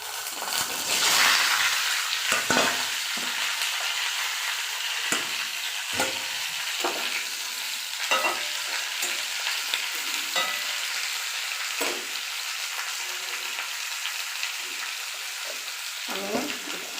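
Mixed vegetables sizzle steadily in a hot pan for a Bengali chorchori while a spoon stirs them, adding intermittent scraping clatters over the continuous frying hiss.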